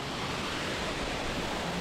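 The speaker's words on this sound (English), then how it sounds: "So this waterfall is the main waterfall" A hiking trail's main waterfall gives a steady, dense roar of rushing water, constant and even throughout with no other sounds breaking through.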